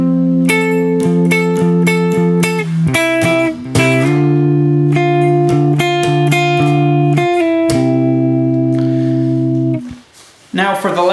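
Guitar strumming the verse chords, steady bright double-stop strums and sustained chords, loud and close, fading out near the end.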